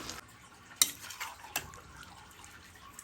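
A spoon stirring Bengali labra vegetable curry in a pan, with a few sharp scrapes and clinks against the metal over a faint, soft sizzle, close and fairly quiet.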